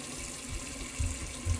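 A bathroom tap runs while a shaver rinses off after a shave with a vintage razor, a faint, steady hiss of flowing water with a couple of soft splashes.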